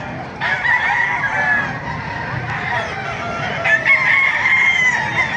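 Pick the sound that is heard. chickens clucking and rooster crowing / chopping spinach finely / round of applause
chickens clucking and rooster crowing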